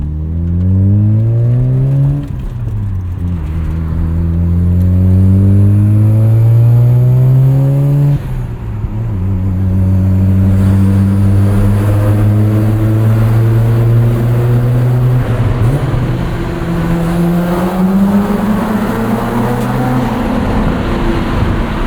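A 1994 Mazda RX-7 with a rotary engine accelerating hard on a canyon road, its buzzing note climbing steadily through several gears, each shift dropping the pitch before it rises again, loud and close throughout.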